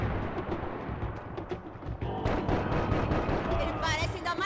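Gunfire and explosions in Max Payne 3 multiplayer: a steady, rumbling wash of distant shots and blasts with a few sharper reports near the end, while a voice talks over the game.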